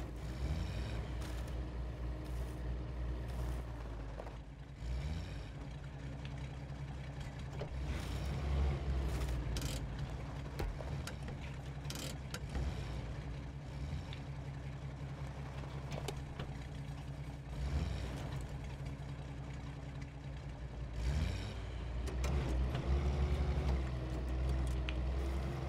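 A Mitsubishi truck in the SnowRunner off-road game labors on a mountain trail, its engine humming and revving unevenly at moderate level, with surges as it pushes over rocks and no talk.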